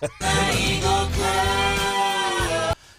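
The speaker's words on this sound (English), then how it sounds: "You want the old Wake Up Columbia jingle, which sounds like this." A short jingle for the Wake Up Columbia show on 93.9 The Eagle radio: a sung melodic phrase with bright backing music, loud and close, ending abruptly.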